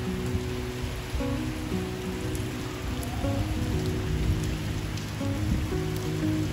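Steady summer rain falls and patters on surfaces. The hiss is loud and continuous throughout, with no voices.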